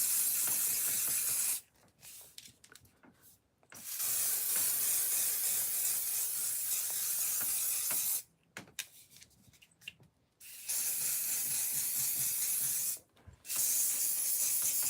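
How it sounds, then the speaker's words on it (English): Hairspray hisses loudly onto hair in long sustained sprays, broken by a few short pauses filled with faint rustling, close to the listener. "I'm going to take a bit of hairspray, give them a spritz"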